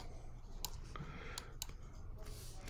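A few sharp computer mouse clicks, sparse and irregular, sound faintly over low room noise while sculpting in Mudbox software.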